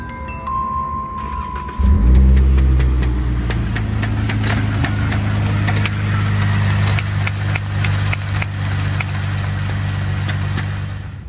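A Jeep engine starts and runs close by with a steady rumbling idle, while a torn belt flaps around under the hood, adding a rapid irregular slapping and ticking over the drone.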